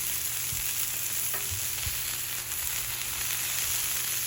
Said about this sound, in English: Okay, so we got these on here. We're just going to let them cook.